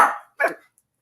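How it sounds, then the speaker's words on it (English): A dog in a hotel room gives two short, sharp barks close to the microphone, about half a second apart, then stops. "As soon as my noisy dog shuts up."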